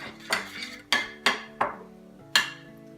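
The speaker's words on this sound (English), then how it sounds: "And you just stir that around." A spoon scrapes and clinks around a crockpot as seasoning is stirred into dinner, several distinct metallic knocks at an uneven rhythm, close and clear with no talking.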